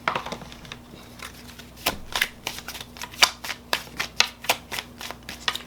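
An oracle card deck is shuffled close by in quick, rhythmic bursts of crisp card slaps and riffles, with no talking.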